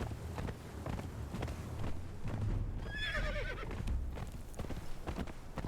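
A horse in the video game Conan Exiles whinnies once amid a steady run of hoof clip-clops, set against a busy background of game sound.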